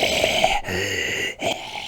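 Rasping, wheezing demonic breathing from the horror film The Exorcist, a woman's imitation of bronchitis wheezing, loud and close, with a short pause mid-breath and a harsh hiss running throughout.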